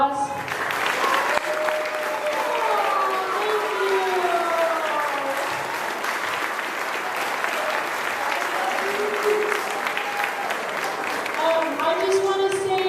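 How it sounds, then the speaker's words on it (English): A crowd at a school Christmas drama gives dense, sustained applause throughout, loud and steady, with voices talking and calling out over the clapping. "Give you one more round of applause."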